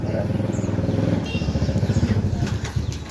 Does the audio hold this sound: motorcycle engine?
yes